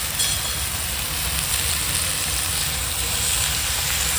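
Potato, pumpkin, pointed gourd and plenty of eggplant fry in a pan without water while being stirred. The sizzle is a loud, dense, continuous hiss that holds steady throughout.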